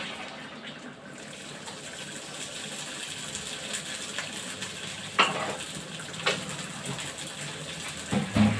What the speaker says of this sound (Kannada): ಇಲ್ಲೇ ಸ್ವಲ್ಪ ಎಣ್ಣೆ ಹಾಕಿ ಒಗ್ಗರಣೆ ಹಾಕೋಣ.